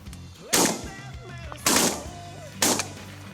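Three loud shotgun blasts at a goose hunt, spaced about a second apart, each cracking sharply and then rolling off, with voices talking in between.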